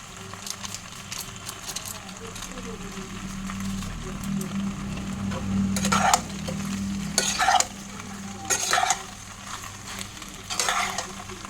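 Food being stirred and fried in a pan after a spice mix of chili flakes and oregano goes in, with a steady sizzle and repeated scraping strokes of the spoon, close and moderately loud.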